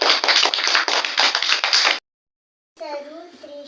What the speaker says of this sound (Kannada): ಎಲ್ಲರೂ ಚಪ್ಪಾಳೆ ಹಾಕ್ರಿ.